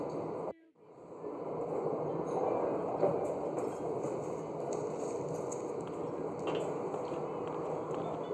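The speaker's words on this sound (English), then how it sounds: "Pour me 3 fingers of rye." Rye whiskey is poured into a glass in a bar in L.A. Noire, a steady liquid trickle that follows a brief thump and runs unbroken for several seconds under low room ambience.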